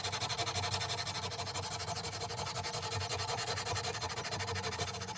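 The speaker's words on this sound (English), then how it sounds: "it's 120 grit sandpaper." Steady scratchy rasp of 120 grit sandpaper worked back and forth over a knife blade, continuous and close for the whole stretch with no voices.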